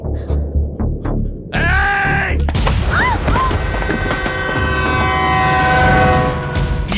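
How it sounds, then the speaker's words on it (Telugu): A train rumbles loudly past with a long, blaring horn and squealing wheels in a Telugu film action scene, preceded by a few seconds of softer sounds. "ట్రైన్ ఆగుతుందని నాకు తెలుసు"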